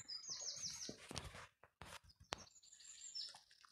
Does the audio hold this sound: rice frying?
no